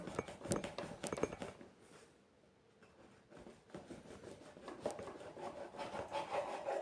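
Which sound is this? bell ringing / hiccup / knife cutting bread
knife cutting bread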